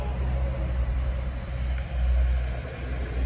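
Trucks roll out of a ferry ship with a low, continuous engine rumble and drone, loud and near, with no talking.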